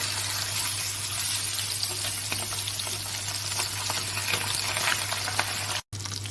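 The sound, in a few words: pabda fish frying in oil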